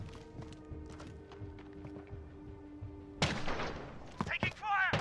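Gunfire in a Modern Warfare 2v2 match: rapid clattering shots, then a loud close burst of gunfire near the end, with a voice speaking briefly underneath.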